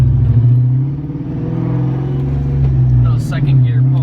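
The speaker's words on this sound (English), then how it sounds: "Second gear pull on the Bullitt." A 2001 Ford Mustang Bullitt V8 growls steadily under load during a second-gear pull. The strong low engine drone holds throughout, and a brief voice cuts in near the end.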